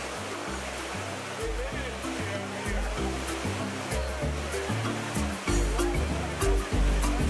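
A waterfall at Ocho Rios, Jamaica, pours in a continuous, loud rushing roar heard from close by, with someone talking over it.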